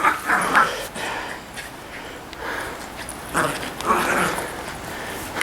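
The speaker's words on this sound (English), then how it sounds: "Doggy's found a ball." A dog yips, whimpers and gives short barks in bursts, fairly close, with faint voices in the background during work laying artificial grass and building a patio.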